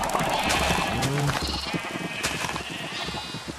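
A Minecraft sheep bleats clearly near the start, a short quavering call, followed by softer game ambience with light clicking and shuffling.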